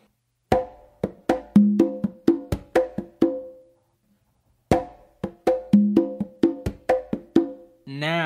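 Conga played in a samba groove, two close phrases of rapid hand strikes mixing crisp slaps with resonant open tones, separated by a short pause, with a voice starting at the very end.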